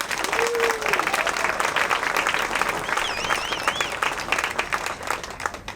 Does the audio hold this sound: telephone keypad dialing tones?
no